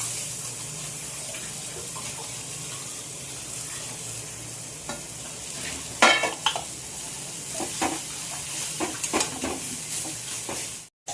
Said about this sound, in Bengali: জিরের গুঁড়ো আর একটু ধনের গুঁড়ো, ভালো করে কষিয়ে নিই।